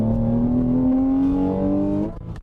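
A car with a Numeric Racing short shifter and cables accelerates hard, its engine note rising steadily under load for about two seconds before dropping off as it shifts into gear; close, loud and with no talk.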